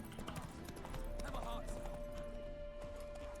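Roach, a horse in The Witcher 3: Wild Hunt, clip-clops along at a steady trot, the hoofbeats faint and mixed under talking voices and soft background music.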